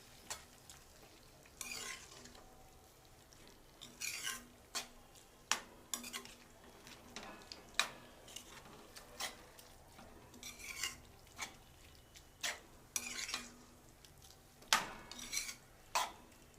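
A spoon stirs grated carrot halwa in a pan after milk is poured in, giving repeated scraping strokes against the metal with a soft wet sizzle underneath, close and fairly quiet, with no talking.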